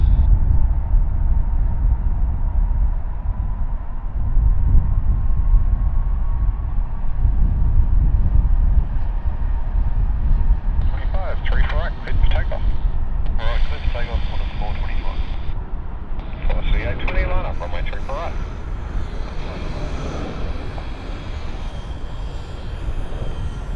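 An airliner takes off at Sydney Airport, a loud steady engine roar with a deep low rumble that holds throughout and gains a rising whine partway through, heard from a distance outdoors.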